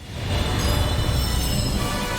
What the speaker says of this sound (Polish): Nadjeżdża pociąg A. Prosimy zachować ostrożność.